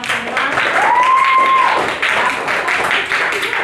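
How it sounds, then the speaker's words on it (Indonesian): Classmates in a classroom applaud together in a dense, steady burst of clapping lasting several seconds, with a voice briefly carrying over the noise. "tepuk tangan dulu buat kawan-kawan semua"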